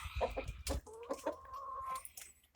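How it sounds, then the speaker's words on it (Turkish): A yellow rooster clucks outdoors in a series of short, faint, uneven calls, with soft background noise and no talking. "Bu sarı horoz."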